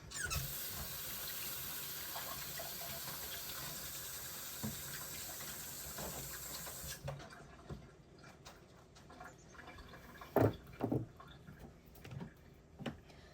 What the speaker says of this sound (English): Let's go ahead and rinse everything.